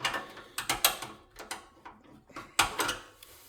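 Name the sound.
wrench turning nut on lawn mower solenoid terminal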